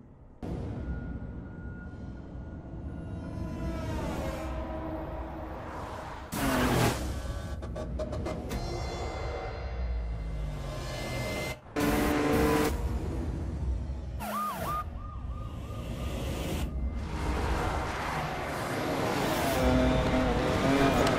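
A Lamborghini Countach roars through a sprint race in the video game Need for Speed: Most Wanted, with a continuous engine drone, gear-shift surges, passing whooshes and siren-like tones alone throughout.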